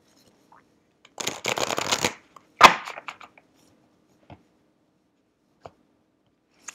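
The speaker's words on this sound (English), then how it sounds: "okay, and one more shuffle." A burst of riffling tarot card shuffling up close, about a second long, followed by a sharp tap and a few soft clicks of cards being squared, then near silence.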